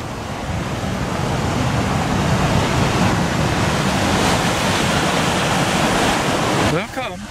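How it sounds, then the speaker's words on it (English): Big ocean waves crashing at Peggy's Cove, a loud continuous roar of surf with wind that holds steady for several seconds before a voice begins near the end. "then you get these big waves"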